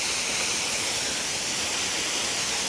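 A waterfall in an animated folk tale roars as a steady, even rush of broadband water noise, continuous and fairly soft, with no voices over it.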